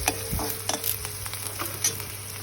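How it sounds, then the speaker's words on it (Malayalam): A spoon stirs fenugreek powder into fish curry in a pan, with soft scraping strokes over a low, steady sizzle, close by and with no voices. "പിന്നെ അതും അങ്ങോട്ടും ഇങ്ങോട്ടൊക്കെ ഒന്ന് ഇളക്കി സെറ്റാക്കി കൊടുക്കുക."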